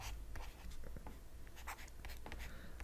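Pen or marker scratching across a surface while an equation is written out during a maths lesson on the equations of lines, quiet and close, in short irregular strokes with brief pauses.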